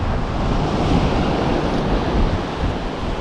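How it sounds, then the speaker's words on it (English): Waves break on a beach near Great Yarmouth, Norfolk, in a continuous broad roar of surf mixed with gusting wind noise on the microphone. No voices are heard. "It's another beach."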